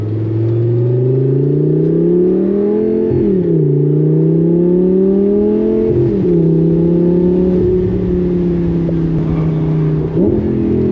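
A straight-piped Lamborghini Gallardo Spyder V10 booms loudly from the cabin, its engine note climbing in long pulls and then dropping sharply with barking downshifts roughly every three seconds, a constant heavy roar with no talking.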